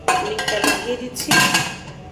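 Metal lid of a heated pressure cooker, gasket removed, being set and fitted onto the pot in a home kitchen, several close clattering metallic clinks and scrapes in quick irregular succession.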